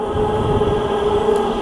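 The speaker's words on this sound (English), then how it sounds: "quickly turn down the volume before the ear rape comes in of the train" Train running at a station on the Fremantle line in Perth, a steady loud rumble with a sustained tonal hum, continuous over the whole short stretch with no talking.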